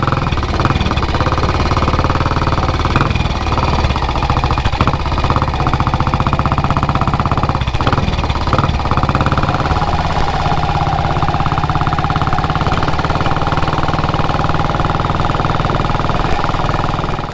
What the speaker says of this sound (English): the noise emitted from a single cylinder British machine